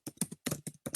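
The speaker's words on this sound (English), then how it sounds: "So let me start typing here." Typing on a computer keyboard while filling in business requirements, functional requirements and UI entries, heard as close, clustered bursts of key clicks separated by short pauses, with no voice.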